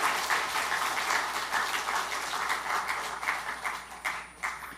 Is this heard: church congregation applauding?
yes